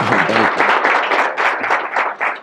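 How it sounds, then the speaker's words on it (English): Loud, dense applause from an audience at an Alpha Phi Alpha fraternity youth summit, clapping continuously for a couple of seconds. "Let's give Brother Keyon Clinton another round of applause"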